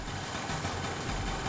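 A cheap Yamaha scooter idles just after being started, giving a steady, close engine drone with a low throbbing pulse that holds evenly for a brief moment with no voices.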